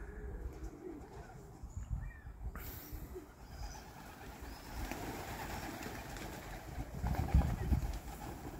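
Pigeons cooing softly before being shipped out, amid rustling and low rumbling background noise, with occasional faint chirps.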